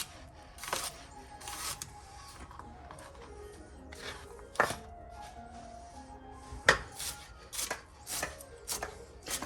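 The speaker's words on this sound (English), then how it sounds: "Let's start by cutting up these onions." Onions chopped with a knife on a board for potato soup, irregular crisp knocks of the blade, some sharp and close, over quiet kitchen background.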